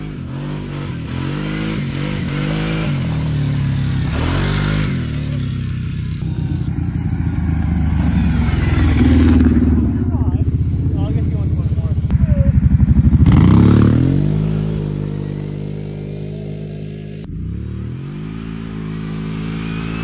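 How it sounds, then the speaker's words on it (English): An engine revs hard in a drag racing setting, rising and falling through loud bursts of acceleration with a mechanical clatter, close by, with people talking over it at times. "Good sounding motor."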